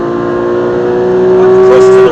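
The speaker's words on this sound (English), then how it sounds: "back on the throttle again to help the car rotate" A race car engine at Silverstone, loud and steady, held at a high sustained pitch as the throttle is reapplied after braking, rising slightly and cutting off at the end.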